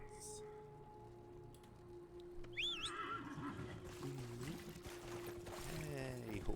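A horse in the game Dragon Age Inquisition whinnies twice, a rising squeal then a fluttering neigh, over soft game ambience with a faint background tone.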